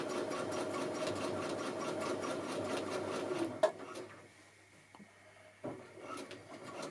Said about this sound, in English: to machine on the quilt, and hopefully you'll see that nothing moves at the top end